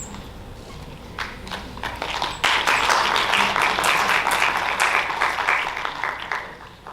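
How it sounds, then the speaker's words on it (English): Applause breaks out at a Sikh research summit, starting with scattered claps and then swelling into steady, dense clapping from a hall full of people before tapering off. "another applause"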